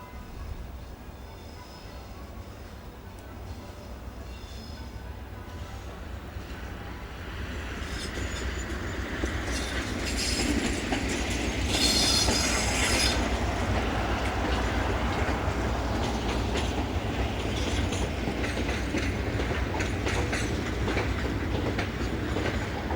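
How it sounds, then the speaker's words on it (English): The Arpley to Demarsh timber train runs into Chester Yard with a steady rumble and rhythmic wheel clatter, swelling louder as it nears and holding a sustained roar with a brief high squeal in the middle. "the Arpley to Demarsh timber train is routed into Chester Yard for a loco change"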